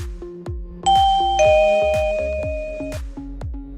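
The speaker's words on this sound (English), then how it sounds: "The TCP Smart Doorbell comes complete with a plug-in indoor chime," The plug-in indoor chime of a TCP Smart Doorbell gives clear, loud ding-dong tones that ring out and decay. A steady rhythmic ticking pattern runs underneath, with no talk.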